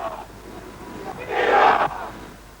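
Rescued sailors cheering on an airfield tarmac after 48 hours adrift in rafts, a swelling burst of crowd cheers and shouts rising to a peak for about half a second before cutting off.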